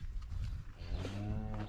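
Cattle kept shut indoors on a farm moo loudly and close by, one drawn-out low call rising over a dense, shuffling barn background with no talk.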